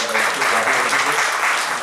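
Applause welcoming guests at an award function, a short loud burst of crowd clapping heard close, with voices mixed in underneath.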